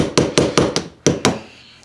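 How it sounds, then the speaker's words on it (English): A screwdriver taps on the barb of a sheet-metal hose clamp from a carpet steam cleaner pump, giving six sharp metallic strikes in quick, slightly uneven rhythm, close and loud, followed by near silence. "tap with the screwdriver"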